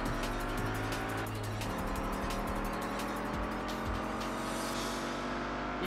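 Car driving in Test Drive Unlimited on PS2: a loud, continuous engine roar with shifting pitch, a few tire squeals and bumps, and repeated clicking ticks over it. Nobody talks.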